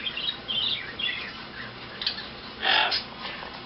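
Budgie parrots chirping near their cage indoors, a scatter of quick high twittering calls, moderately close, with a louder burst toward the end and no speech.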